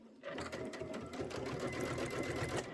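A sewing machine stitches a Kimberbell Candy Corn quilt top at a 2.0 stitch length, running as a steady, rapid, close whir with a fast mechanical pulse that carries through almost the whole stretch.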